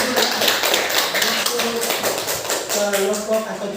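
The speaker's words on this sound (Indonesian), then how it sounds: "kita berikan tepuk tangan juga" A school class claps for a group of classmates, a dense, steady patter of hands filling the room for a few seconds.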